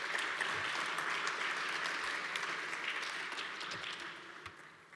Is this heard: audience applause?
yes